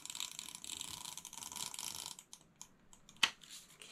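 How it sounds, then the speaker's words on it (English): A tape runner laying adhesive along the short sides of envelope paper, giving a steady ratcheting, clicking rasp that runs continuously for about two seconds and is followed by a few faint clicks and one sharp snap. "I'm gonna take my tape runner, and the trick is to put tape runner on just the sides, these short sides."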